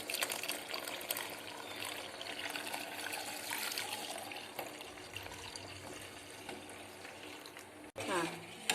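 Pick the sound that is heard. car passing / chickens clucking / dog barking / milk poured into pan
milk poured into pan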